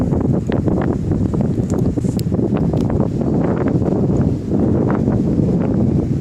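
Outdoors at the maiden flight of a Bixler FPV radio-controlled foam plane, gusty wind buffets the microphone as a loud, continuous low rumble, with no voices.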